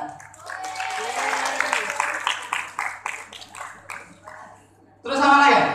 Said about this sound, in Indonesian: Ya, tepuk tangan dulu untuk inaugurasi matematika.